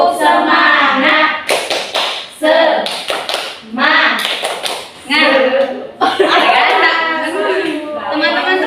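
A group performs the rhythmic 'tepuk semangat' clapping chant, with bursts of claps in a set pattern interleaved with voices chanting along, close and loud.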